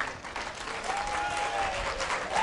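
An audience at a workshop session clapping together, a steady dense patter of many hands filling the room, fairly loud and sustained, with a faint voice or whistle-like tone briefly over it.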